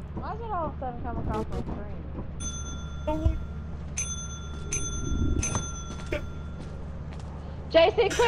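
Bells ring repeatedly in Lethal Company, sustained tones stacking at intervals amid game noise while several people talk over them.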